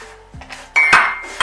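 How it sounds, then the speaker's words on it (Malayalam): A utensil clinks and knocks against a bowl while all-purpose flour and white sugar are mixed, giving a few sharp close clanks and scrapes with a brief ringing tone, with no talk. "നല്ലോണം മിക്സ് ചെയ്യുക"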